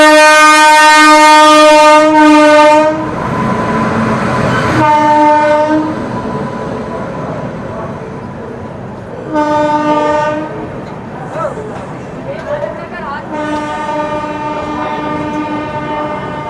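Bhagat Ki Kothi–Kacheguda Express passing, with a loud sustained horn at the start and repeated horn blasts later, over steady rolling rumble and wheel noise from close by.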